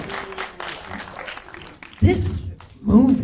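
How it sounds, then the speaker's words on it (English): A live studio audience claps in brief bursts of applause, a short one in the middle and another at the end, each under and between a man's speech and some cheering. "Give yourself a round of applause."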